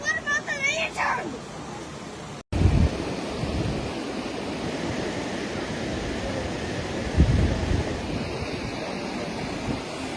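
Rushing floodwater in Pagosa Springs, Colorado roars as a loud, steady broadband wash with heavy wind buffeting on the microphone, surging near the start and again midway; brief voices are heard before the roar.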